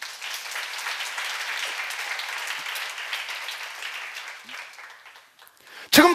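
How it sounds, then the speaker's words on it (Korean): A seminar audience in a church setting claps together, a steady medium-loud applause that thins out toward the end, followed by a sudden sharp burst of voice. "박수 좀 쳐봐."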